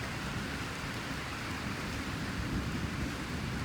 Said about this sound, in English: we're gonna have to deal with some intermittent on and off rain and thunderstorms